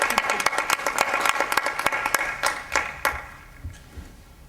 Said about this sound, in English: Did we give him a round of applause? You want to do another one?